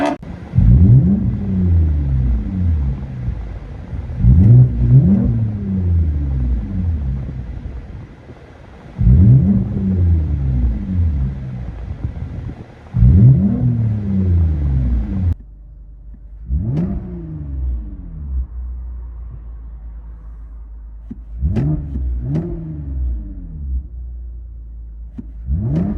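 Loud 3.5L V6 engine of a 2020-2024 Toyota Camry TRD with straight-pipe exhaust revving repeatedly, several sharp rises and falls, then lighter blips over a low idle rumble.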